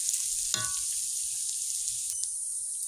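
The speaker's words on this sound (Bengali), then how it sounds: "রসুনটাকে থেঁতো করে নিয়েছি তো এটাকেও কিছুক্ষণ কষাবো" Crushed garlic fries in a pan with a steady bright sizzle throughout, marked by one clear clunk early on and a faint scrape near the end.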